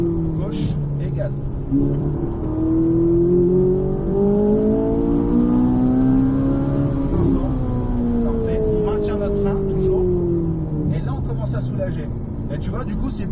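A car accelerating hard out of a left-hand turn on a race track, engine note rising and falling steadily and close throughout, with a person talking over it.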